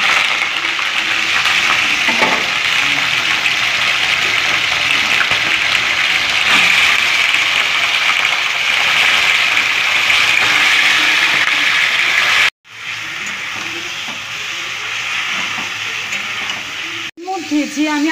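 Chicken pieces frying in a generous amount of oil with cumin seeds in a wok, a loud steady sizzle that fills the clip, cutting out briefly twice near the end.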